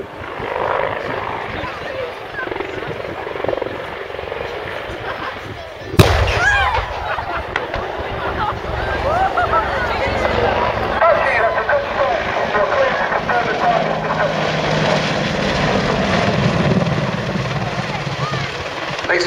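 An Apache attack helicopter roars through a flying display at an air show, its heavy rotor and engine noise loud and sustained, with a sharp bang partway through and an announcer talking over the din.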